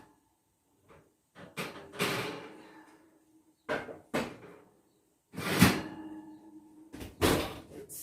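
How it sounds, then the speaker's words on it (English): An oven door is opened while banana oat raisin bread bakes, giving several close thuds and clunks with quiet gaps between them. "Open up the oven."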